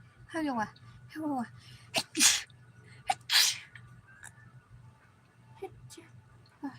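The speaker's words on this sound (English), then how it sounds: "I need to sneeze" A person sneezes sharply, twice in quick succession with short gasps and breaths around it, close and clear against a quiet room with a faint hum.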